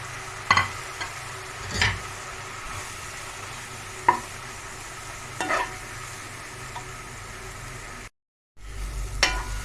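Onion, tomato and masala fry in a pan for beetroot gravy, giving a steady sizzle broken by intermittent scraping stirs of a spoon, with one brief dropout near the end.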